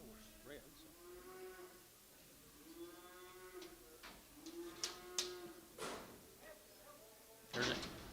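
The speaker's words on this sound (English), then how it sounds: "There's a smaller calf off some other cattle, folks." A calf lowing at a calf and stocker livestock auction, several drawn-out moos spread through the clip amid sale-barn background noise, with a few sharp knocks near the end.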